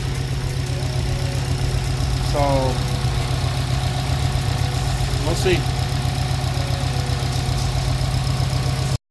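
A Subaru WRX JDM engine, swapped in and knocking when revved, idles steadily with a low rumble and brief rises in pitch, while a person talks briefly over it.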